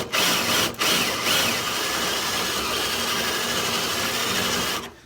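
A spot weld cutter grinds steadily into sheet metal, a continuous loud whirring and rasping bore that runs nearly five seconds with a brief dip early on before stopping.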